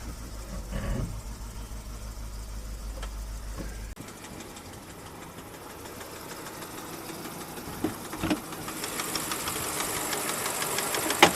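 BMW E65 7 Series 3.5 litre V8 petrol engine running with a ticking, knocking clatter. The tone shifts partway through and the noise grows louder toward the end.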